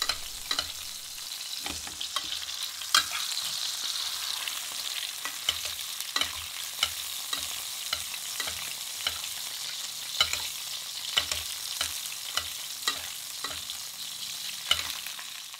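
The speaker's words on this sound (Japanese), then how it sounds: "先ほどは皮の部分を焼きましたけど、それよりも肉の部分の方を焼いていきます。" Duck breast searing in a pan, meat side down and basted, a steady close sizzle with frequent small crackles and pops, no voices.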